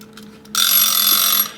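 A kitchen timer rings with a loud, continuous bright metallic ring lasting about a second, starting abruptly after a short quiet lead-in, with no talking.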